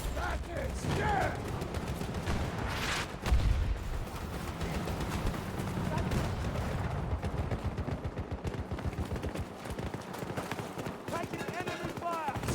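Rapid gunfire from a Battlefield 2042 match, clattering bursts and mechanical rattling running under game voices throughout, with a heavier thump early on.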